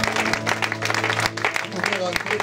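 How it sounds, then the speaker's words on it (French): A church congregation applauds in praise during a bilingual service, with continuous crowd clapping under sustained music tones and a voice speaking over it. "Nous acclamons le Seigneur. We applaudisseren voor de Heer."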